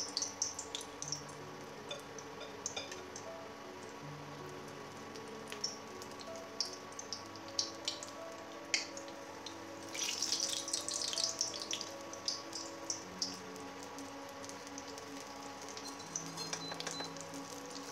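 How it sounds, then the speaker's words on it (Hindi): Kathi kabab fries in oil over a medium flame, giving a soft, steady sizzle with scattered crackles and pops that briefly grow louder midway. "इसे ऑयल में डालेंगे। और मीडियम फ्लेम के ऊपर इसको फ्राई करेंगे।"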